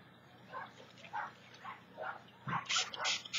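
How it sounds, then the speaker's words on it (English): Small dogs give a series of short, high yips and barks, spaced a half second apart, fairly faint, ending in a quicker burst. "Quiet, puppies!"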